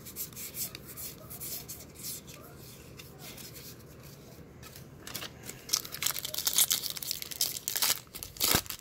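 Someone tears open 2020 Bowman baseball card packs, the foil wrappers crinkling and ripping close by, with rustling, sliding cards and a louder, sharper flurry of tearing toward the end, no speech.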